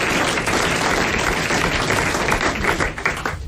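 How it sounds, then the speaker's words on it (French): Studio audience clapping on a French radio-television quiz show, a dense, steady patter of many hands that fades slightly toward the end. "Vous applaudissez les grosses têtes."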